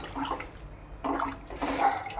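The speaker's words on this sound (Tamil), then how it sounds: "ஒரு 2 தடவை தண்ணி ஊற்றி நல்லா அலசி எடுத்து வச்சுக்கோங்க" Spinach greens are swished and rinsed in water, giving three short sloshing bursts at close range with brief pauses between them.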